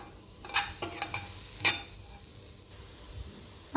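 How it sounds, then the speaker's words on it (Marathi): Salted bitter gourd stirred in a pan, a few scraping and clattering strokes over a faint steady hiss, close and moderately quiet, with no talking. "आता आपण मिक्स करून घेऊया, जेणेकरून आपण जे मीठ टाकलेलं आहे ते पूर्ण कारल्यामध्ये असं"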